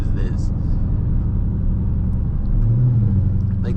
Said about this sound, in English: Like the drone makes it sound like a straight pipe V6.